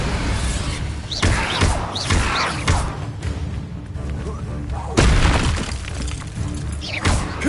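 Bombarda spell blasts in the Hogwarts Legacy video game, heavy booming impacts with crashing debris, a strong hit near the start and another around the middle, amid continuous loud combat effects and a shouting voice.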